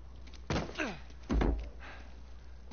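Gear dropped down in the Uncharted 4 video game, heard as two dull thumps about a second apart, the second heavier, over a low steady background hum.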